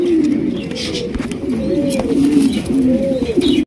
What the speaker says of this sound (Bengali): এখানে রয়েছে একটা বিশাল বড় সাইজের কালারিং রাজগোল্লা কবুতর